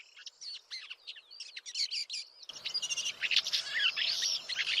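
A shrike, the butcher bird, calls in the Qaradagh countryside with a series of sharp, chirping notes. Partway through, a denser wash of other birdsong and background noise joins in.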